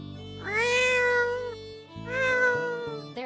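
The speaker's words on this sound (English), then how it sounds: "the sounds of meowing and scratching claws from the other side start up." Cats meowing from behind a door, two long, loud, drawn-out meows in close succession, the second slightly shorter; no scratching is clearly distinct.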